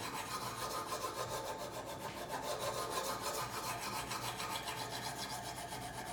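A knife blade is drawn repeatedly across the stone of a Kazak UBR sharpening system with a U-adapter, giving a steady rhythmic scraping and rasping that stays close and even throughout, with no voices.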